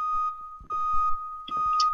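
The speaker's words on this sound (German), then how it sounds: "Alarm!" A sustained high-pitched electronic alarm tone from the Minds Eyes video game runs throughout, broken by a few low thuds and short bleeps.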